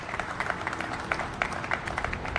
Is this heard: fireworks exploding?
no